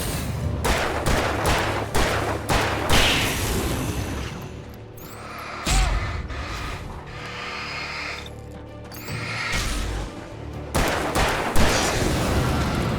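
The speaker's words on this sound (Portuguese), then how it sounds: "Seis tiros pra matar aquele ali." Bursts of rapid gunfire from the video game Alan Wake, loud and sharp, coming in several volleys with brief lulls between them, no talking.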